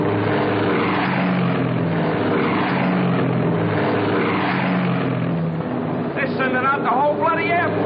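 Propeller-driven bombers take off from an island airfield in a 1944 wartime film scene, a loud continuous droning engine roar filling the space while voices speak over it.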